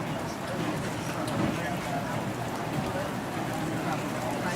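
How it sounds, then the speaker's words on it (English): Rain falls steadily against a murmur of coffee shop ambience, a soft broadband hiss with faint clinks and indistinct background activity, evenly mixed and continuous. "I think that it would sound better if I could hear the rain a little bit more than the actual coffee sounds"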